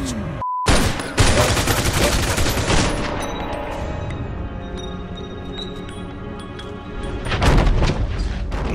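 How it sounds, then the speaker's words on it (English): Heavy gunfire in the Mafia 2 video game: a sudden loud shot after a brief silence, followed by a ringing, booming wash of reverberating shots that fades, then another burst of loud blasts near the end. "He shot me in the leg"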